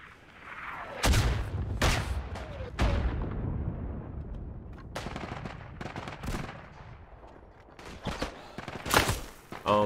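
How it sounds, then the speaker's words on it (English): Grenade blasts and rifle and machine-gun fire from the World War I shooter game Isonzo, with loud, sharp reports and deep booms punctuating a constant din of distant battle gunfire throughout. "Oh, I hear grenades."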